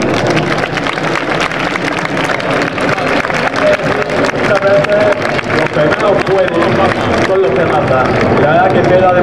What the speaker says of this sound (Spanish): yo os voy a pedir que le demos un fuerte aplauso